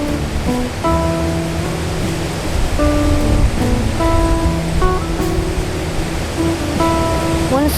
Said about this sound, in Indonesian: Sungai ini di sebelah sana, di air kayak air terjun ya.